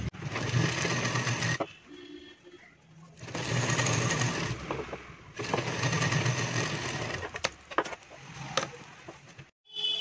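A sewing machine stitches a women's shirt collar in three long whirring runs, with short pauses and small clicks between them, loud and close, and no talk.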